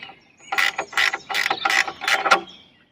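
A ratchet wrench tightens a bolt on a geodesic dome frame, making five or six quick bursts of dense metallic clicking, close and fairly loud, with short pauses between strokes.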